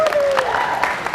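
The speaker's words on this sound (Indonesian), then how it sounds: "Ya, oke, tepuk tangan" A school audience of high school students breaks into brief applause, a dense burst of clapping with a voice speaking over it.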